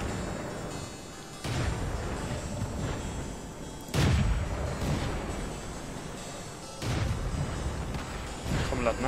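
Tank cannon shots boom in the World of Tanks video game, with several deep blasts spaced a few seconds apart over a rumbling backdrop, while a player talks.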